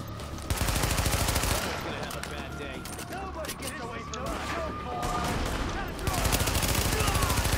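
Gunfire in Tom Clancy's The Division, dense rapid bursts of automatic shots running almost continuously and loud, with game sound effects and a voice talking over it.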